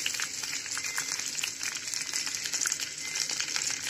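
Curry leaves with crushed ginger and garlic sizzle in hot oil for a Kerala prawn roast, giving a steady, bright crackling hiss with small pops, close and alone.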